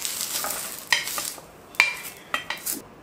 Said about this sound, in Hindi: अभी हम ऑनियन को रोस्ट करेंगे।